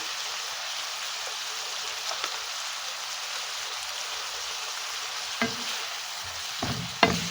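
Onions stir-frying in a pan for adobong sibuyas, with soy sauce added, giving a steady, even sizzle throughout, broken near the end by a few close scrapes and clicks of a utensil stirring.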